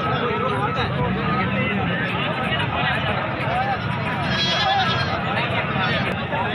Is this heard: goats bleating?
yes